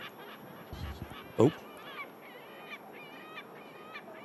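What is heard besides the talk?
seagull calling at airport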